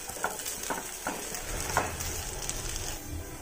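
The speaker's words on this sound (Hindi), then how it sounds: "हमारा मावा लाइट ब्राउन हो गया है, अच्छा भुन गया है।" Mawa (khoya) roasting to light brown in a pan over low-medium flame, stirred with soft scraping strokes over a faint sizzle, quiet and close with no talk.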